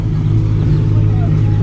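A BMW M3 hums with a steady, loud low engine drone while cruising with passengers aboard, the rumble holding even through the brief moment.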